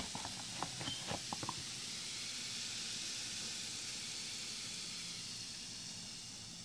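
A fizzing chemical volcano reaction gives off a steady, broad hiss, with a few small crackles and pops at the start before it settles into an even fizz with no talk.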